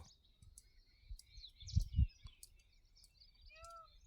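Sparrows chirp in short, scattered tweets at a distance, mixed with soft rustling and light clicks nearby, with no talking.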